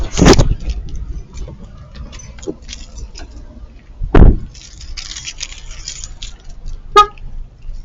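Someone gets out of a parked car in a thrift store lot: a sharp door thud opens the scene, a second heavy slam follows midway, then a brief lock-confirming horn chirp near the end, amid quiet rustling.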